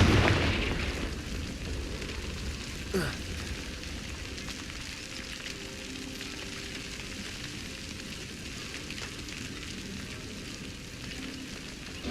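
Confringo blasting spell cast in Hogwarts Legacy, a loud burst at the start followed by a sharp crack and a long crackling, sizzling fire-like hiss that fades slowly.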